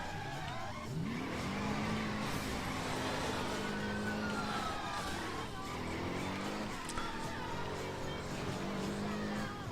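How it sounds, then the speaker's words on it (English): A Camaro SS driven in the video game Driver San Francisco, with the engine note rising and falling as the throttle is feathered, plus tire squeals and skids. A voice talks over it throughout. "So that's with me feathering the gas"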